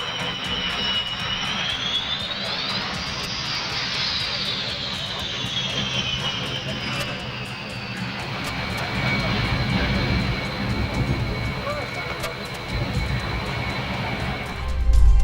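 Aircraft engines roar steadily at the Slovak International Air Display at Bratislava Airport, with a rising and falling jet whine as an aerobatic team flies overhead, loud and continuous with crowd noise beneath.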